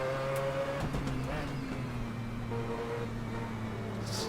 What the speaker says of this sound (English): the car will bog if I don't put enough revs on it